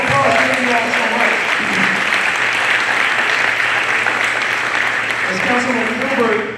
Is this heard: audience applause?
yes